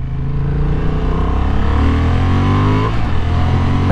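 A Honda Hornet 750 naked motorcycle, around 90 horsepower, revs hard under acceleration, its loud, close engine note climbing steadily in pitch for several seconds before a brief dip as the throttle shifts.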